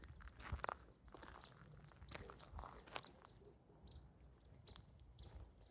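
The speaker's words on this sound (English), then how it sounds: "Birds chirping." Faint chirps and tweets from birds outdoors, scattered over soft rustling and footsteps on a quiet trail.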